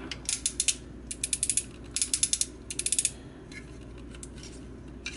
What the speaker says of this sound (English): Also a very sturdy ratchet joint.